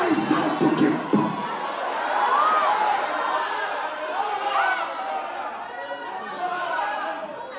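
A church congregation at an evangelical worship service shouting loudly together, a dense, sustained roar of many voices with scattered cries and cheers filling the room throughout.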